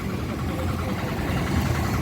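An auto rickshaw engine idles steadily on a street in Thanjavur, a continuous low rumbling drone held at an even level from start to finish.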